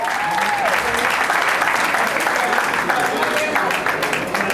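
Steady applause from an audience for the standing committee women at an inauguration of the Congolese community in Washington, D.C., sustained clapping filling the room with a voice carrying over it.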